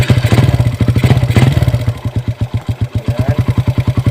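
A motorcycle engine runs steadily up close as it is ridden, its rapid rhythmic firing pulses chugging loudly throughout with no voices over it.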